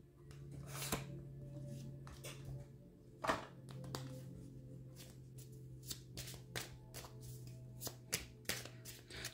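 Tarot cards shuffled by hand in a quiet room, a run of crisp riffling bursts and slaps spread irregularly across the span, close and fairly soft over a low steady hum.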